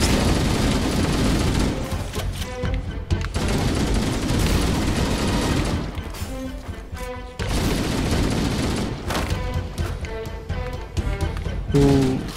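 Heavy bursts of gunfire and booming grenade blasts in Halo: Combat Evolved, loud and nearly continuous, with brief lulls and voices talking in between.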